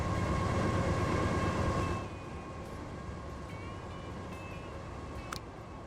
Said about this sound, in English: This freight train.